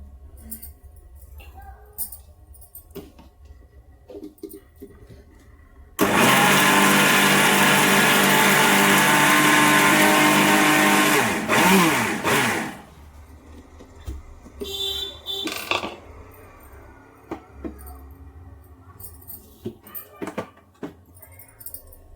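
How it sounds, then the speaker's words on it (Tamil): A mixer grinder grinding soaked rice runs loud and steady for about seven seconds, a dense whirring roar, then cuts off, leaving faint clinks and kitchen handling noises in a quiet room. "மறுபடியும் பாதி மட்டும் அரைக்கலாம்"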